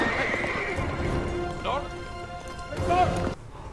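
In a scene from the 1995 movie The Indian in the Cupboard, a horse gallops with quick clip-clop hoofbeats and lets out a whinny partway through. Film sound and voices play along with it.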